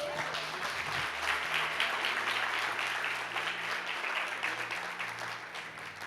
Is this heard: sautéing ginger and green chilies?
no